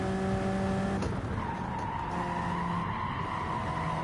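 Race car in Gran Turismo 7 skidding with sustained tire squeal and engine whine, one sharp impact jolt partway through as it crashes, loud and alone without talk.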